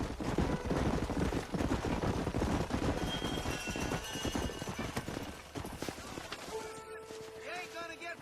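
Rapid hoofbeats of several galloping horses in the video game Red Dead Redemption, loud and dense, then thinning out as birdlike chirps and a steady tone emerge near the end.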